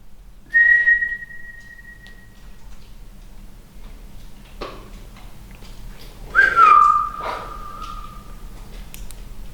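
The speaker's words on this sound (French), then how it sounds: "Et là, je vous entends encore siffler." Whistling inside a tunnel: two clear sustained whistled notes, one early and one later, separated by quiet stretches with a faint sharp knock between them, no speech.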